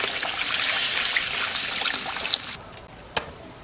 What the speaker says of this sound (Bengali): মশলা থেকে তেল ছেড়ে দিয়েছে দিদা, জল দিয়ে দাও।